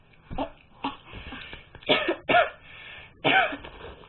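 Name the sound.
coughing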